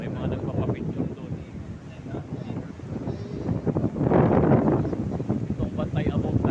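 Strong wind buffets the microphone at a seaside resort, a constant rough rumble that swells louder partway through, while people talk over it.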